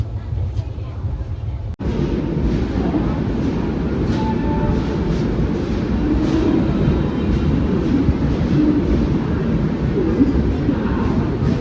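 A train stands at Bhusawal Junction, filling the scene with a loud, steady rumble and a constant broadband roar. A sharp break comes early on, and faint murmuring sits beneath the noise.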